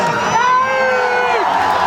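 Crowd cheering and hollering at an outdoor welcome event for a Bhojpuri singer in Lakrakol, Bhagalpur, a loud sustained roar with whoops and a voice rising above it, with no distinct clapping.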